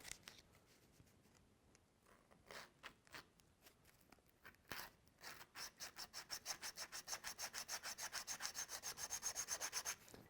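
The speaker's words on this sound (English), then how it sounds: "Now I'm just going to work with my sandpaper and start working it down in there" Steady rhythmic scraping of sandpaper rubbing a wooden arrow nock, strokes growing quicker and more regular toward the end, close up with no talking.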